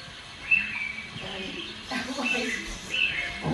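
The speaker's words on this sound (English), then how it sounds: "listen to the birds" Birds chirping outdoors, a few short high tweets scattered over a soft background, with faint voices murmuring underneath.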